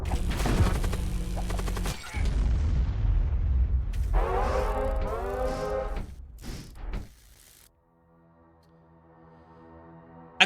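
A Void War video game explosion booms loudly with heavy rumbling and crackling blasts for several seconds, then fades out into a quiet, low electronic hum.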